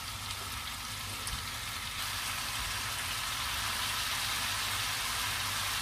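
Papaya flowers stir-fried with bacon in a pan give off a steady, continuous sizzle with faint scraping, close and even throughout, with no talking.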